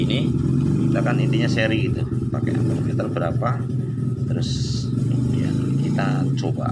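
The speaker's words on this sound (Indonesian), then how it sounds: "suara saya ketimpa suara motor ya" Motorcycles pass on the road outside a roadside repair workshop, a steady low engine rumble running continuously beneath someone speaking close by.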